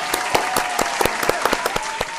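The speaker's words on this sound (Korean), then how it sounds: "여러분 박수 한번 주십시오." Studio audience on a Korean news variety show claps briefly, a dense round of applause with a few sharper individual claps standing out close by.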